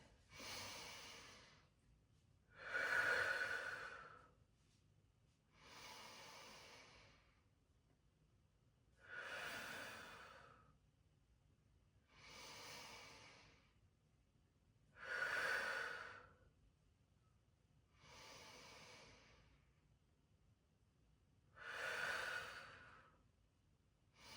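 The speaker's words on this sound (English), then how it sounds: "And 30 seconds of that diaphragmatic breathing." Slow diaphragmatic breathing during a postpartum core strength workout, about eight long, steady breaths at an even pace, each swelling and fading, close and soft with no talking.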